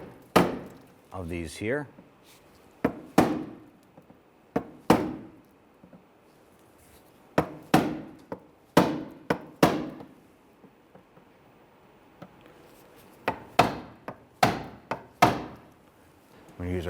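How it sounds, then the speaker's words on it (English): On a 1999-2004 Jeep Grand Cherokee, a punch knocks out the centers of plastic push pins. Sharp, close taps and thunks come in uneven bursts and clusters with pauses between them, and a voice speaks briefly early on. "I'm going to use a punch or a pick here, and we're going to punch out the center"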